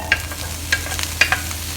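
Cabbage stir-fried in a little oil in a hot pan for fried rice, a soft steady sizzle broken by a few light scraping stirs, close and with no talking.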